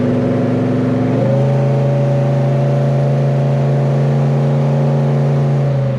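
A 1970 Chevelle V8 fitted with a Holley Double Pumper carburetor holds a steady, loud, rumbling hum at light throttle, with a slight shift in tone about a second in before settling into an even drone.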